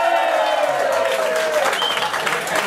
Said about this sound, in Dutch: Groot applaus voor julliezelf en voor de grote opkomst.